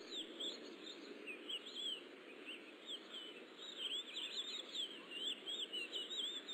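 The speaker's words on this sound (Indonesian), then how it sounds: "Suara burung ya, bird. Okay, that is from Robomind ya." Recorded bird chirping played back from computer software, a faint continuous series of rapid high tweets and trills over a soft hiss, with no voices.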